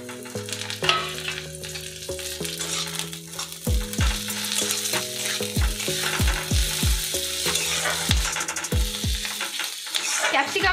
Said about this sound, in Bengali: পেঁয়াজটা লাল করে ভাজা হয়ে গেছে কুচানো ক্যাপসিকামগুলো দিয়ে দিচ্ছি